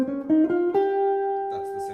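Jazz guitar playing a G Locrian scale over a minor-key progression: a few clean notes stepping upward in quick succession, then one note left to ring on, with some faint extra noise near the end.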